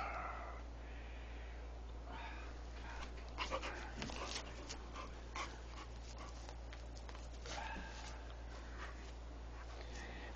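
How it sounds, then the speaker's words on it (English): A pit bull pants quietly in a sequence of soft rhythmic breaths mixed with a few faint whimpers and snorts, close by against a low steady hum. "It's just a mean dog."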